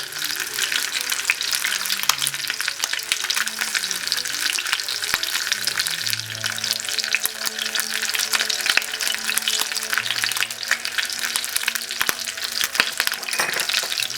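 A sous-vide rack of lamb sears in a hot pan with a loud, continuous close sizzle and spatter, joined by occasional light clinks and scrapes as it is turned.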